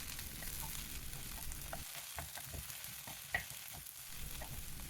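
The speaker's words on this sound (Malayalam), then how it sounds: "വെണ്ടയ്ക്ക ചേർത്ത് നന്നായിട്ടൊന്ന് ഇളക്കിക്കൊണ്ടിരിക്കാം." Okra stir-fried in a pan over a medium flame, a steady close sizzle with repeated soft scrapes and stirring knocks from the spoon, no voices.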